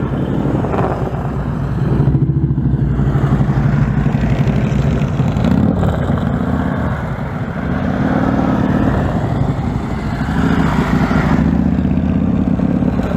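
A motorcycle engine runs throughout a series of practice U-turns, holding a loud, steady mid-pitched drone that swells and eases gently as the throttle changes.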